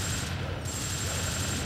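Gunfire in the video game TimeSplitters: a quick run of repeated shots over a constant background hum, fairly close, with no talking.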